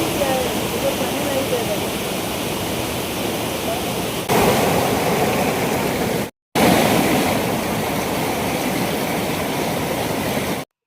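Steady, loud rushing roar of water at the Jaflong waterfall, a continuous dense wash of noise heard close by, with one brief cut in the middle.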